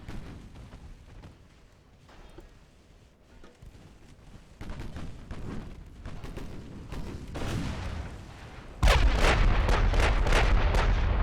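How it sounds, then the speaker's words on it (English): Heavy naval gunfire in Ultimate Admiral: Dreadnoughts as a 17-inch gun fires high-explosive shells at a destroyer, a low rumble of booms building to a loud, sustained close blast near the end. "That's the 17-inch firing HE at a destroyer"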